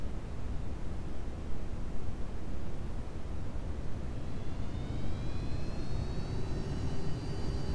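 Boeing 727 in the FSX flight simulator taxiing at an airport, a steady broadband jet engine roar with a rising whine building in the latter half, continuous and fairly loud with no voices.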